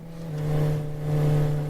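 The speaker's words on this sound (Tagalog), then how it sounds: "Oh, Agapito, nakabantay ka ng motor nga saba kayo tambutso?" A motorcycle with a loud exhaust revs steadily nearby, a strong low engine drone swelling twice over a short stretch with no talking.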